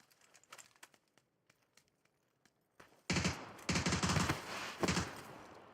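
First-person shooter gunfire in a ranked match: faint scattered clicks and distant shots, then a loud close burst of rapid automatic fire in several bursts.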